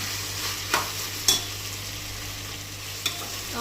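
Onions frying in oil in a pan for chicken biryani, a steady soft sizzle with a few sharp spoon scrapes and clinks from stirring, close and alone without talk.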